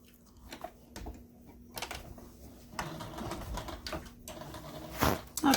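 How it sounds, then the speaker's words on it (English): A sewing machine stitches a square onto a plastic bag holder in short bursts of rapid mechanical clatter, with brief pauses between runs and a louder burst near the end. "I'm gonna sew a square."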